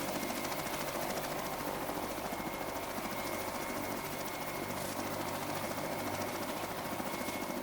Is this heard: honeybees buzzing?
no